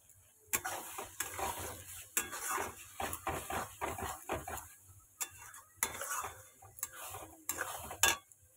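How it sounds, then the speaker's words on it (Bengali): Spices fry in a pan for chicken curry while a spatula stirs and scrapes, giving repeated close metallic clinks and scrapes in uneven bursts over a soft sizzle, with no voices. "একটু আগে মশলাটাকে একটু ভাজা ভাজা করে নেবো"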